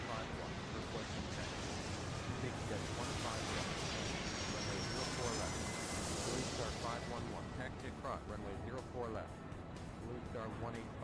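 Jet airliner roar rising and sweeping during a takeoff in the Airport Madness 3 airport game, a broad engine rush that swells then eases, with radio-style voices talking over it.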